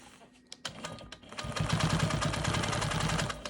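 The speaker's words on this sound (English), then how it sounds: "we're quilting this on the Janome Quilt Maker Pro 20-inch long arm" A Janome Quilt Maker Pro 20-inch long-arm quilting machine stitches a diamond quilt block; after a second of soft clicks the motor starts, settling into a continuous, close mechanical whir of rapid stitching.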